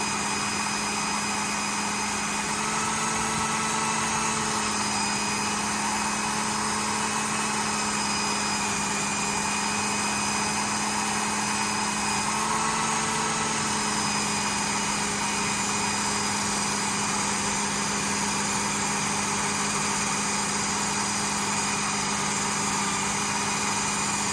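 A Work Sharp Ken Onion Elite knife sharpener runs as a steady, unbroken motor whine and hum, close and constant throughout.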